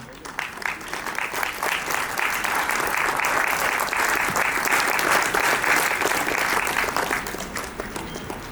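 Sustained applause from an audience at an award ceremony for ITI Jamnagar alumni builds quickly to a dense, even clapping for several seconds before tapering slightly at the end.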